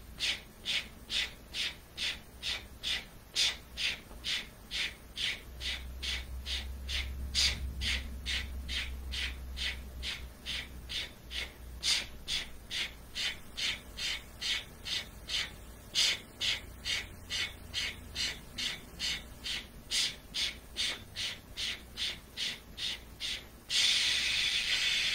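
Breath of Fire practice: a long, steady run of quick, forceful nasal exhalations in an even pulse, roughly two per second, close and unvoiced, with a low hum underneath for part of the way.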